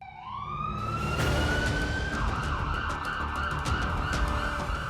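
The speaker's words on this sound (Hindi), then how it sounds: "हूटर और सायरन बजाता योगी सरकार का सरकारी अमला दिन भर अयोध्या की सड़कों और गलियों में दौड़ता रहा और छापेमारी करता रहा।" A wailing siren rises and holds a steady high tone over traffic noise on the streets of Ayodhya, with hooters, loud and continuous, with brief clicks and knocks scattered through.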